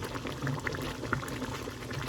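Yellow rice simmers in a pot, almost dry as the last water soaks in, with soft, irregular bubbling and small pops close up.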